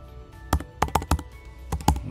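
Computer keyboard typing code for a Google Colab project, close and crisp, with a handful of separate clacking keystrokes in an irregular rhythm and short pauses between them.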